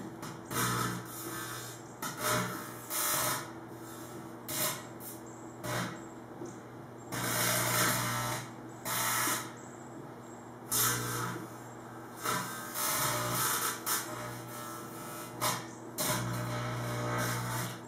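Aluminum foil arcs inside a microwave oven while the oven hums steadily, with repeated bursts of harsh, crackling buzz that start and stop irregularly, each lasting a second or so.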